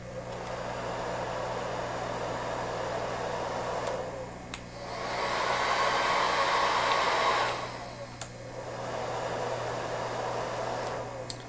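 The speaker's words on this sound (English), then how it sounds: "This is a standard hairdryer, and here's a hairdryer using the porous rotor technology." Hair dryers blow steadily in three stretches, a standard dryer and one with a porous rotor, the middle one louder and higher-pitched, with brief clicks as each is switched over.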